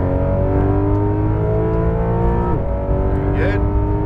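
A Porsche 911 GT3 on a racetrack at full throttle, its engine a loud, steady, harmonic-rich drone from inside the car that dips briefly as the gear changes, with a voice briefly heard over it.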